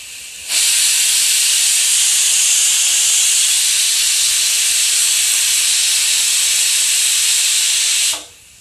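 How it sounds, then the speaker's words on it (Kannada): A pressure cooker of tomato bath lets out a single loud, sustained hissing whistle of escaping steam. It starts abruptly, holds steady for about seven and a half seconds, then cuts off sharply. "ಈಗ ನೋಡ್ರಿ 1 ಸೀಟಿ ಆಗೈತಿ."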